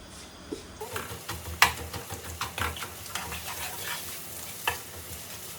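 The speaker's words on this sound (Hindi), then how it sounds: "अनियन डालती हूँ और साथ साथ अनियन फ्राई करते हैं" Onions frying in a pan for chicken karahi, a close sizzle punctuated by irregular stirring scrapes and spoon knocks, without any talking.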